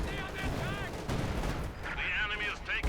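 Company of Heroes 2 battle sounds as a barrage hits, with dense rumbling explosions and gunfire mixed under a commentator's steady talk.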